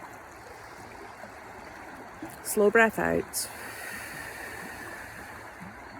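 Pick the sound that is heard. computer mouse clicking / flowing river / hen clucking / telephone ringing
flowing river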